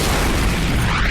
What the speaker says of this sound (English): how a tiny arrow can cause an enormous explosion